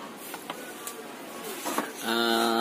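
A Brother T310 inkjet printer starts its head-cleaning cycle, with a few light mechanical clicks and shuffles giving way to a steady, loud whirring motor drone.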